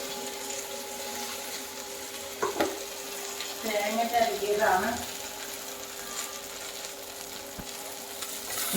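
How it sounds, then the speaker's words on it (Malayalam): Chopped ingredients frying in a pan until browned for a Kerala home meal, a low steady sizzle broken by a few scraping, clinking stirs of a spoon against the pan. "ഇത് നന്നായിട്ട് കളർ മാറുക ബ്രൗൺ കളർ ആവണ വരെ ഇതൊന്ന് വറുക്കണം"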